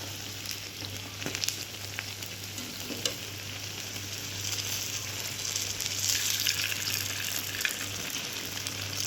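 Medu vada, a fried lentil fritter, frying in hot oil in a home kitchen, a steady close sizzle and bubbling that runs throughout with small crackles and no talk.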